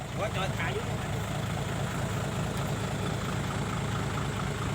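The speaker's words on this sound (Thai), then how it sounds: "โอ้ รถไถตามันติดครับ" A farm tractor engine idles steadily at close range, a continuous low rumble with no breaks, the ground-level drone of a stuck farm tractor near a rice field.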